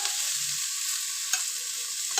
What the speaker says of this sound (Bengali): এটা যখন মোটামুটি এখন ভাজা ভাজা হয়ে আসছে, পেঁয়াজটা